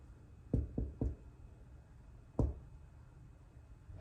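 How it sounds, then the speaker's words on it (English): Knuckles rap on a door in a one-two-three pattern, then a single louder knock after a pause, each rap sharp and close in a quiet room. "Right? Knock, knock, knock,"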